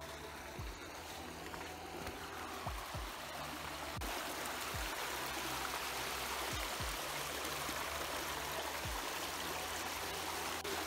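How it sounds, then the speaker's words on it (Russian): Water rushes steadily at an old water mill on the Don river, a broad continuous roar of flowing water. A few low, dull thumps recur every couple of seconds beneath it, and no one speaks. "Это вот водяная мельница, и вода вот здесь утекает в Дону."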